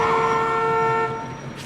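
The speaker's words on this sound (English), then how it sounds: "getting honked at by a driver" A car horn blares in one steady, sustained honk, loud and close, then fades slightly toward the end.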